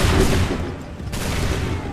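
A musket volley in Assassin's Creed 3 Remastered, a loud, dense crackle of many shots at once that fades into a lingering rumble, followed by a second sharp burst.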